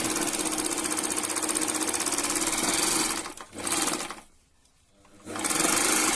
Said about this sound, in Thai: อันนี้เย็บไปหลายทบแล้ว เย็บเทสดูนะครับ